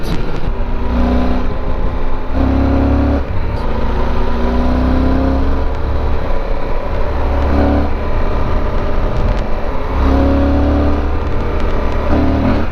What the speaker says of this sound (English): The FJR's got a great 4-cylinder engine that just sounds fantastic.